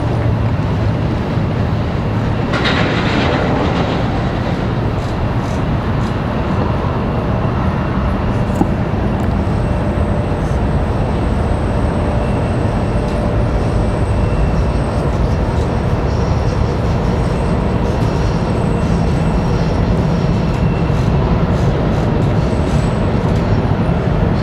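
Lufthansa and British Airways jets landing at Washington Dulles produce a continuous heavy roar and rumble, loud and steady across the whole span, with no talking.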